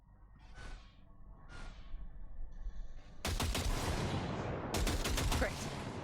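Gunfire in Cyberpunk 2077: two soft breathy bursts, then a sharp onset of rapid, loud automatic shots that rattle on for a few seconds with a second volley near the end.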